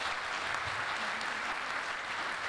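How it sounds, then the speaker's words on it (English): An audience at the Wild Digital SEA 2017 tech conference applauds after a fireside chat, producing a brief, even wash of continuous clapping from many hands at a steady level. "Big round of applause for Anthony."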